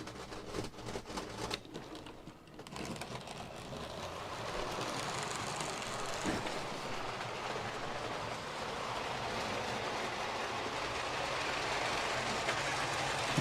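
A Hornby OO scale model train runs along its track, a steady mechanical whirring and rolling rattle that settles into an even drone after some early clattering.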